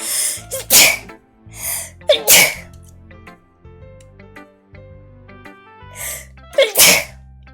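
Several loud sneezes burst out one after another, separated by pauses, with soft musical tones playing underneath.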